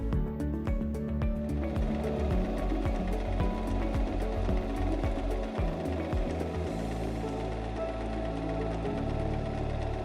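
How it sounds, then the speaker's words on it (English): SINGER M3330 Making the Cut sewing machine running a straight stitch, a fast rhythmic mechanical clatter of the needle that changes to a smoother, steadier hum partway through, close and continuous. "step on the foot control to start sewing"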